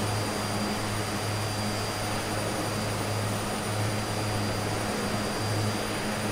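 A steady airplane engine drones from a flight video game on a flight toward Mount Ararat, a constant loud hum with a low propeller-like tone that holds without a break, with no talk.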